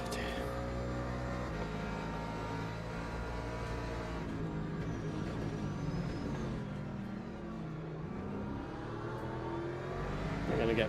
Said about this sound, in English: I'm going to get passed by that BMW.